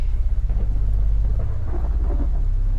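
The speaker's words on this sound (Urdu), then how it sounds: "گرج چمک کے ساتھ تیز بارش ہو رہی تھی" A heavy storm with deep rolling thunder and heavy rain, heard as a loud, continuous low rumble under a steady wash of rainfall, with no voices.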